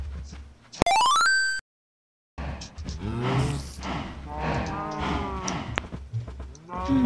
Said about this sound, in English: It's cows running around the farm.